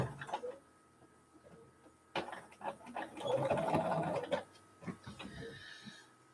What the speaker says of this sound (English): I must say I'm pleased that my sewing machines are putting up with the amount of sewing we're doing around here.